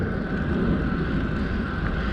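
Steady drone of a Cessna Caravan propeller airplane engine nearby at a small airport, with a constant hum and a bit of wind noise, no voices.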